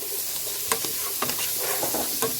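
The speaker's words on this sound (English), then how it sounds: "Add the onions, like I said, keep stirring it. Let that cook down just a little bit." Onions sizzle and hiss in a hot pan over medium heat for a vegan rasta pasta, with several sharp scraping stir strokes of a utensil breaking through the steady frying.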